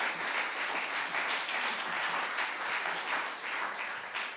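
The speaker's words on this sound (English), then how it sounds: "we'll give her a round of applause anyway." A school music-event audience gives a short, steady round of applause, fairly soft and even throughout, with no talking over it.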